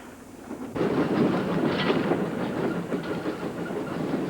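A train rolls steadily along its rails with a continuous rumbling roar and faint clickety-clack, growing louder after a brief quieter start and holding close and loud to the end, with no voices.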